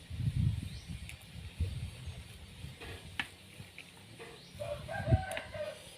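Rooster crowing a couple of times at a moderate distance, interrupted by scattered farmyard knocks and background clatter outdoors.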